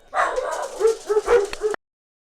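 Several dogs bark and yip in quick, overlapping bursts, close and fairly loud, with some higher whiny yelps mixed in, then the sound cuts off abruptly.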